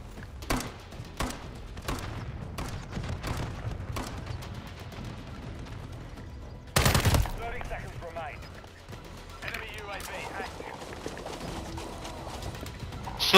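Bursts of video game gunfire crack out in short volleys, one loud burst standing out midway, mixed with game ambience while a voice talks over much of the action.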